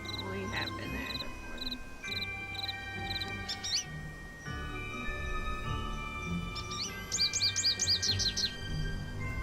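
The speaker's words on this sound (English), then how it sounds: "Where's that chirping coming from?" Repeated high chirping bird calls in a forest scene of a Nancy Drew video game, short bursts early and a longer chirping run near the end, heard over steady background game music and a low ambient hum.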